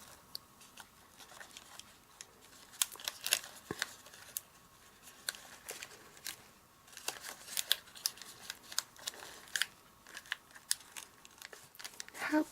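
Scissors snip black lace ribbon at close range, with soft clicking cuts and light rustling of the ribbon and packaging under low room noise.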